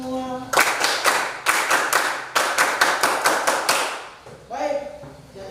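A classroom of students claps hands in bursts of quick rhythmic applause, close and loud, with a teacher's voice briefly heard before and after.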